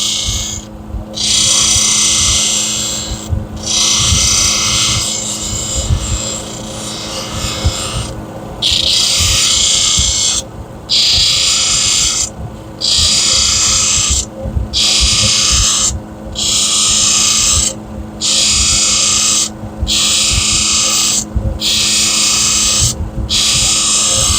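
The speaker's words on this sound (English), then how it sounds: "Taking out all the scratches in there that the 220 hard wheel put in there." A stone ring being polished on a grinding wheel after a 220 hard wheel, producing loud rasping grinding passes in a steady rhythm of about a dozen bursts separated by brief pauses.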